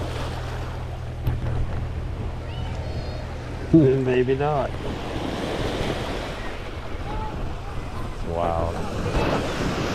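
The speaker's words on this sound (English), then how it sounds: "The waves are bigger. They're bigger down here on this side than they are on the other side too." Ocean waves crash and wash over big granite boulders on the Acadia coast in Maine, a loud continuous roar with wind buffeting the microphone, while someone speaks briefly over it.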